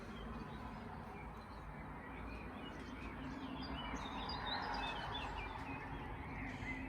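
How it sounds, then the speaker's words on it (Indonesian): Faint bird chirps and tweets in Germany, scattered over a steady background hiss, distant and soft, with no voices. "supaya Anda bisa dengar ya itu kicauan burung"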